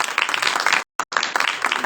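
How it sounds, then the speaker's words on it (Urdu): A church congregation claps loudly for God during a sermon, with dense, steady applause filling the moment, briefly cut off and then resuming. "ایسے خدا کے لیے زوردار تالی بھی بجائیے"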